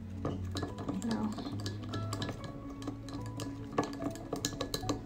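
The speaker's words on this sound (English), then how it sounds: "So you mix, try to mix very well." A spoon stirs and clinks against a bowl of homemade hand cream mixture in quick, irregular taps and scrapes, close and moderately quiet, with a faint low hum underneath.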